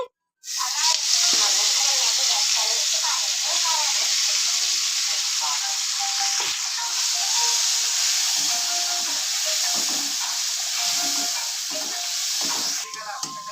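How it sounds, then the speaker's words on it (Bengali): Prawns coated in turmeric and salt frying in oil in a wok: a loud, continuous, close hiss and crackle that starts suddenly and keeps going, with light scraping from stirring. "চিংড়ি মাছটাই আমি একটু হলুদ গুঁড়ো একটু লবণ দিয়ে আমি মাখিয়ে নিচ্ছি মাখিয়ে নিয়ে আমি ভেজে নিচ্ছি"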